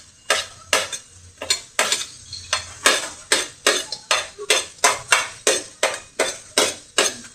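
Garlic and onion sautéing in oil for igado, with a spatula scraping and knocking against the pan in a steady rhythm of about two sharp strokes per second over a faint sizzle, close and alone.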